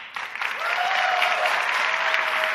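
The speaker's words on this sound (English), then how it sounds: "Big round of applause for her." Applause from a demo day audience, starting with a few scattered claps and quickly swelling into steady, fairly loud clapping, with a faint whistle or cheer rising above it.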